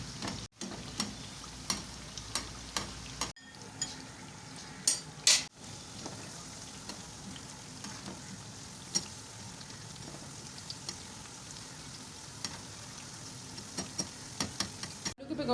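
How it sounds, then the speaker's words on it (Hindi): Potato and onion pakoras frying in hot oil, a steady low sizzle running throughout with light stirring and scraping clicks scattered over it, no voices. "इनके ऊपर थोड़ा थोड़ा हमने ऑयल डालते जाना है।"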